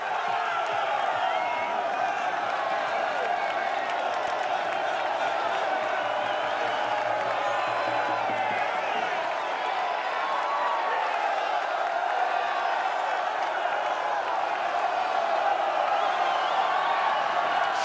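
A large roadside crowd at a professional cycling race cheers, whoops and claps in a loud, continuous roar that holds steady for the whole stretch, with no single voice standing out.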